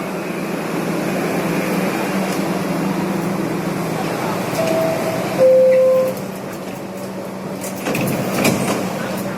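A New York subway train pulls into a station platform, a steady low rumble and hiss with brief higher squeals of brakes or doors, heard at moderate distance amid station ambience.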